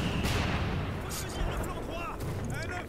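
Gunfire and explosions crackle through a busy battlefield in the D-Day 3v3 tournament shooter, with several sharp bursts and blasts over a dense, continuous background of combat noise.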